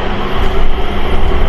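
Changi Airport's Skytrain people mover running, a loud, steady rumble with rushing noise from inside the carriage, with no talking.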